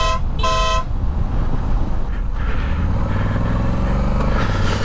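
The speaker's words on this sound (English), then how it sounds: "And a bit of horn for good measure." A car horn honks in two short toots near the start, loud and close, followed by engine or road noise, during a test of Denali auxiliary lights wired with a Hex ez-CAN module.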